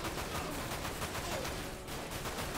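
Sustained automatic gunfire from a machine gun in the Dirge of Cerberus: Final Fantasy VII video game, a dense continuous rattle mowing down groups of enemies, loud and steady throughout with no talk.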